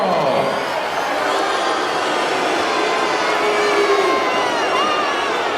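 Boos from a large arena crowd greet Drago, the Soviet amateur champion called the Siberian Bull, in Rocky IV; a dense, steady wall of jeering and crowd noise holds throughout with no clear pauses.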